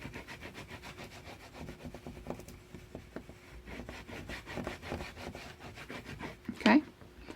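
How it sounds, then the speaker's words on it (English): Glue and tape on a paper craft project are burnished by hand, giving repeated short rubbing strokes in a steady rhythm up close, with a sharper squeak near the end. "You want to burnish that glue and that tape real, real good."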